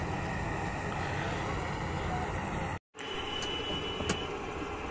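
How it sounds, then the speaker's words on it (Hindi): A combine harvester runs with a continuous heavy mechanical drone, briefly cutting out once before the steady rumble resumes. "वो हार्वेस्टर चल दिया है।"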